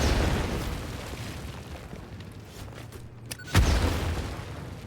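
Explosions from bombing in the video game Satisfactory, a dull rumbling boom followed by a sharp blast near the end.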